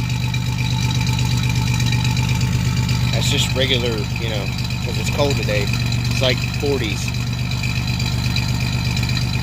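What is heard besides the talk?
1987 Chevrolet Celebrity Eurosport 2.8 V6 engine idling with Magnaflow converter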